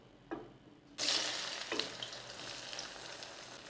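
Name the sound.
onions frying in oil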